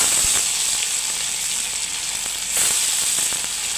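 Chopped garlic hits hot oil and sizzles, a loud, steady bright hiss close up with small crackles, surging briefly as it is stirred.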